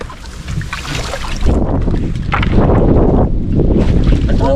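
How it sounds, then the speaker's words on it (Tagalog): Strong wind buffets the microphone outdoors near the water, a loud, steady low roar with gusts swelling and rolling on throughout, no clear talk over it. "Grabe ang hangin ba?"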